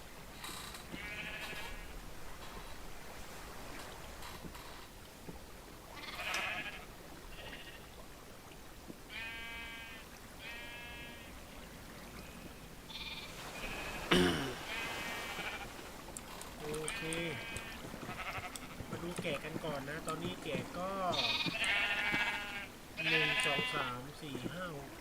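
Minecraft sheep in a snowy mountain survival world give repeated short bleats, some faint and some nearer, spread across the stretch under steady talk from a player.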